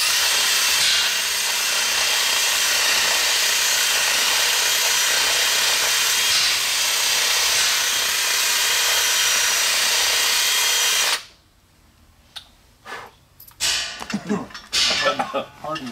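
A power tool whirs loudly and continuously for about eleven seconds while driving hardened screws during a Fleck 2900 water softener valve rebuild, then stops abruptly, followed by clicks, handling noises and brief talk.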